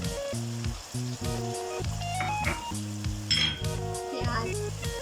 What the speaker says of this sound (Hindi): इसमें हम डालेंगे शिमला मिर्च, हरी प्याज